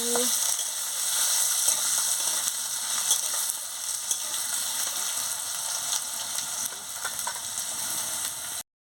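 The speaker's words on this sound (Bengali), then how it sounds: "আলুটা দিয়ে ভালো করে ভেজে নিচ্ছি" Potato pieces fry in a pan for a ridge gourd chorchori, a constant close sizzle with light clicks of stirring and a few sharper crackles throughout.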